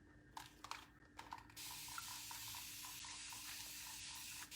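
A paint sprayer hisses in a broad, steady spray while a faux stone finish is built up, starting with a few short bursts and then running continuously, quiet and close.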